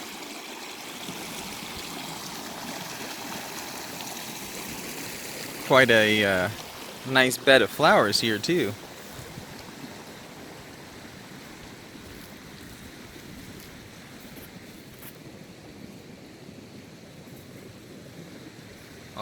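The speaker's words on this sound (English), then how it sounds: "this beautiful little joining of these two streams or creeks" Two small streams or creeks join in Lassen Volcanic National Park, California, making a steady, close rush of flowing water that runs throughout, with a person speaking briefly partway through.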